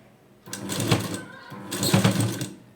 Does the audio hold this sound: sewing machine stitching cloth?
yes